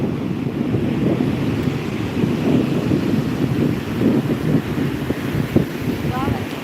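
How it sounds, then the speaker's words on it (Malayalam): Large ocean waves break and surge at Vettukad beach, a steady loud roar of surf with wind buffeting the microphone and voices faintly beneath. "തിരമാല വലിയ തിരമാല വരുന്നുണ്ട്"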